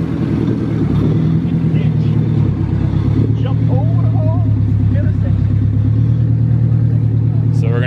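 A stock-engined K20 AWD Honda Civic sedan, tuned to about 600 horsepower, launches down a drag strip against a Dodge Charger. Its loud, close engine drone holds steady and rises in pitch as voices talk over it.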